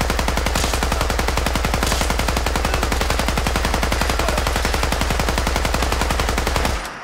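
Rapid automatic gunfire from Fallout 4 rattles in one long unbroken burst of evenly spaced shots, loud and close, stopping abruptly just before the end.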